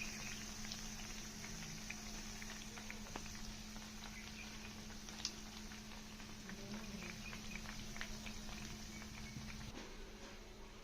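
Bread pieces frying in hot oil for double ka meetha make a steady, dense crackling bubble that runs unbroken throughout, close and moderately loud, with no talking.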